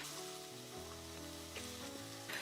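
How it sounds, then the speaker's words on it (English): Corn sautés in a pan with a soft, steady sizzle beneath louder background music, with no talking. "So I'm just going to saute the corn."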